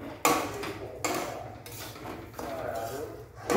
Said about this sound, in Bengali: এবার একটু নাড়িয়ে নিই।